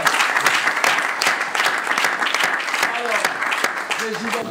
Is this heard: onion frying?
no